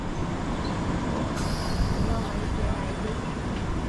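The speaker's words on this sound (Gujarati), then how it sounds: "અમારી ટ્રેન આવી ગઈ" A London train rolls into a station with a steady, dense rumble of wheels and carriages. A faint high squeal rises briefly amid the continuous broadband noise.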